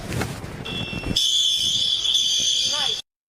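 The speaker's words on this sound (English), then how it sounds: "You see that fire alarm?" A fire alarm being tested sounds a loud, continuous high-pitched electronic tone for about two seconds before cutting off abruptly, with people talking just before and under it.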